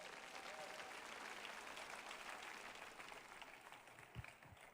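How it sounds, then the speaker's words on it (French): Sustained applause fills a church service in praise of Jesus, a broad steady wash of clapping from a congregation that holds for several seconds before tapering, with a few low thumps near the end. "Applaudissons pour Jésus"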